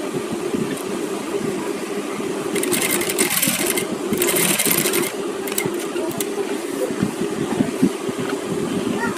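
A sewing machine stitches fabric with a steady, fast mechanical whirr and rhythmic needle clatter, running close and continuous with a brief burst of extra noise midway.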